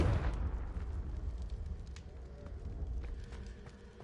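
Confringo fire spell from Hogwarts Legacy bursting into a loud, low rumbling explosion that fades into crackling fire and debris over a few seconds, with no voices.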